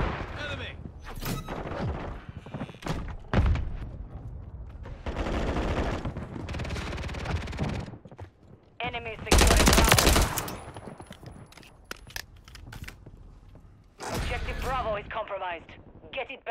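Gunfire during a Call of Duty match, with bursts of shots and heavier booms coming in uneven clusters, mixed with game voices and a loud blast partway through.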